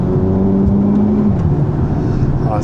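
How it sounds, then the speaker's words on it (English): A 2025 Mercedes-AMG GT 43 accelerates uphill in first gear on a wet road with its traction slipping, a loud, steady engine drone heard from inside the car, pitch holding and then shifting. "Let's do a quick acceleration. First gear. Up the hill in wet conditions,"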